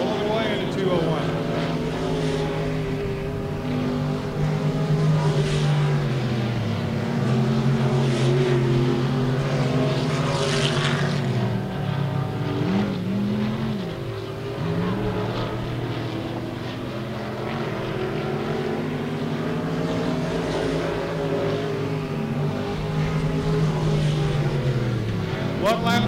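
IMCA Sport Mod race cars roaring around the RPM Speedway track, engine notes rising and falling as they pass, with an announcer calling the race over a public address system.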